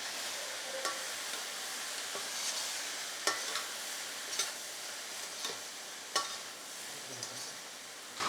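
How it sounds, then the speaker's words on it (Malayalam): A spatula stirs tandoori chicken fried rice in a hot pan, steady sizzling throughout with soft repeated scraping taps at an unhurried rhythm. "ഒന്ന് ഇളക്കി കൊടുക്കാം."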